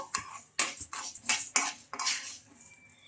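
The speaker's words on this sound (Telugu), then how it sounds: "ఇలా కలుపుతూ మనం ఒక రెండు నిమిషాల పాటు అయితే వేయించుకోవాలి" A utensil scrapes and clinks against a pan while moong dal is stirred and fried, a series of sharp metallic strokes in an uneven rhythm, close and clear with no talking.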